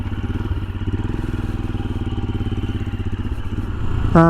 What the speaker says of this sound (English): kickstand up, key on, clutch in. 5, 4, 3, 2, 1. Hot rod. Here we go.